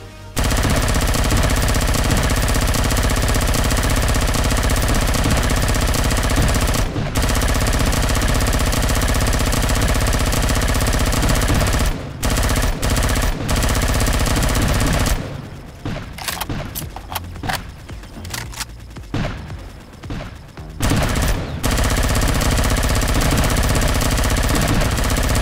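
A heavy machine gun fires in the XLR video game, with long sustained bursts of rapid, loud gunfire, then shorter choppy bursts separated by brief pauses.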